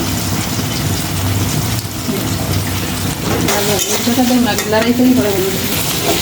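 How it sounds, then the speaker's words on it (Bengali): A spice paste of onion, ginger, coriander and cumin fries in a pan for an egg curry, a dense, constant close sizzle with bubbling and stirring scrapes growing busier toward the end, no voices. "মশলাটা ভাজা হয়ে গেছে"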